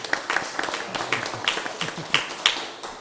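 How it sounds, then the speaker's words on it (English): An audience at a city council meeting applauds a staff member, with scattered, fairly light claps in an irregular patter for a few seconds. "let's give him a round of applause"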